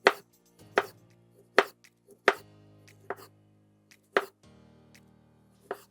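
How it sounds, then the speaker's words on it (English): A knife slices through kiwi fruit on a cutting board while a fruit platter is prepared, giving seven sharp, separate chops spaced about a second apart, close and clear against a quiet background. "Slice."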